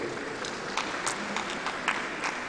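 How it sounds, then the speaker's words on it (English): Audience applause at a national council meeting on communication and digital economy, a dense steady patter of many hands clapping through the whole stretch at moderate loudness, with no talk over it. "please applaud him for the time he spoke"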